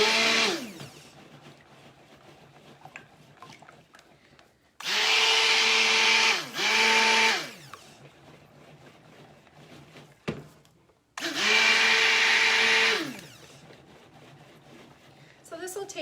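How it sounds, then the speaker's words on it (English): A blender pulses in three loud bursts, mixing lye and oil for soap, with quieter gaps between them. Between bursts a voice talks in the background. "we're just going to go ahead and pulse blend it and then stir"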